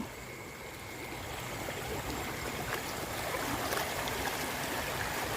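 A forest stream flows steadily where anglers are fishing with a bamboo fish trap, its close, continuous rushing and trickling filling the whole stretch with no voices.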